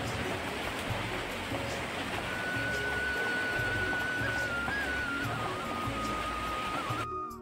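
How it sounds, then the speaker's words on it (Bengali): Rain falls after a spell of intense heat, a dense, steady hiss that continues unbroken throughout. "এই যে প্রখর তাপের পর অবশেষে বৃষ্টি নামলো"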